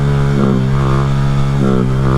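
A Honda Grom motorcycle engine on a first ride, a loud, close, steady droning tone that swells slightly twice, with no talking over it.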